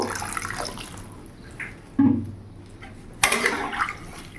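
Water from a spice-washing bowl poured into a thin rohu fish curry with lentil dumplings, heard as a few close splashes and gurgles: a short pour, a louder splash, then a final burst.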